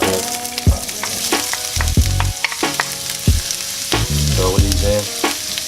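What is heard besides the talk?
oil popping and sizzling in a frying pan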